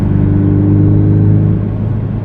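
A Porsche Cayman S engine blips with automatic rev matching on a downshift, a steady, loud, close throaty drone with a slight swell and fall, no voices over it.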